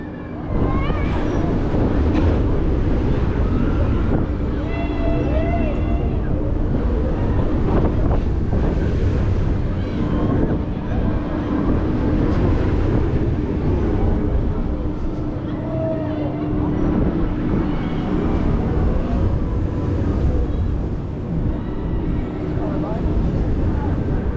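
Constant roaring wind rush from riding the Thor coaster, a 2022 Zamperla Viking DiskO at Drayton Manor Resort, loud and steady throughout with faint voices beneath.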